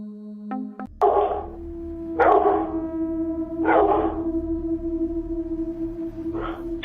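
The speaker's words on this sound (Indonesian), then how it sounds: "Seekor anjing, yang ditugaskan untuk menjaga dan menemani seorang nenek di dalam kamar, tiba-tiba menggonggong" A dog guarding an elderly woman in a bedroom barks suddenly, giving four loud, evenly spaced barks about a second apart that ring out over a steady humming background.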